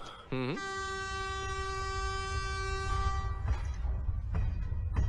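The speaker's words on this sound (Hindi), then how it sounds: "ये तो ट्रेन की आवाज आ रही है" A train approaches on a railway track, its horn sounding one long sustained blast over a rumbling, clattering roll that keeps building.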